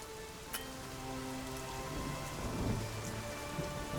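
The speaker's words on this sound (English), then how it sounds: "The storm, damn it." A rainstorm with thunder in The Witcher 3 sounds as a steady wash of rain with low thunder rumbling through it, continuous and fairly close, with no voices.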